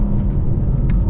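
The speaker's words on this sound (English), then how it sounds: "But now it should be rear-wheel drive, full throttle. Yep, start spinning." A 2025 BMW M4 CS runs at full throttle in rear-wheel-drive mode with its rear wheels spinning, a loud, deep, continuous rumbling drone heard up close, with no speech.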